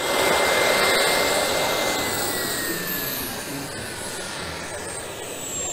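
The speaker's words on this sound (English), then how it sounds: "but it's actually a remote controlled plane." A remote controlled plane flies past with a loud, rushing, jet-like roar and a thin whine, fading gradually as it moves away.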